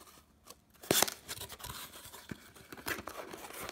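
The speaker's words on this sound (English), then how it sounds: "There we go, that cut the tape." Scissors snipping through tape on a trading card package: one sharp, crisp cut near the start, followed by soft scratchy rustling of plastic and cardboard, close and quiet.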